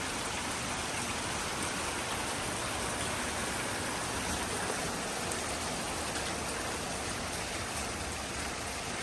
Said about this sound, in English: but it started raining